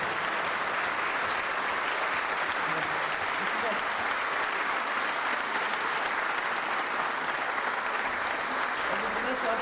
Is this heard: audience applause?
yes